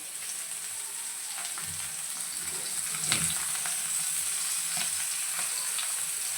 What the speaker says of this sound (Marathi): गॅस स्लोवरती आपल्याला हे पापलेट फ्राय करून घ्यायचे आहेत